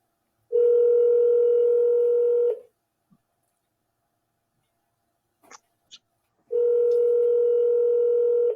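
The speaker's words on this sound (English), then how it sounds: "You hear the phone ringing?" Outgoing telephone call ringing back: two long steady ringback tones several seconds apart, with a few faint clicks in the gap, no voices.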